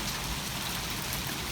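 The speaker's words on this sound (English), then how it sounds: "That sounds like hail I'm hearing." Pea-size hail falling during a strong storm, a dense continuous hiss of pellets striking surfaces, loud and steady throughout with no voices.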